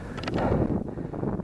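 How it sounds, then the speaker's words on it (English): Strong wind buffets a microphone outdoors, a brief rumbling gusty roar with low flutter that rises and falls. "it's really windy now though,"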